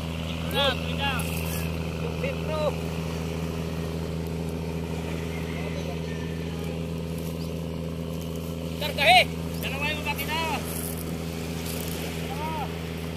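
A boat running on two engines gives a steady, droning hum throughout, with voices talking over it and a few short, higher-pitched calls breaking in.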